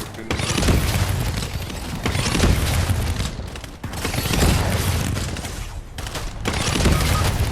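Fortnite gunfire, dense and loud, with rapid bursts of shots in repeated waves and a voice over them.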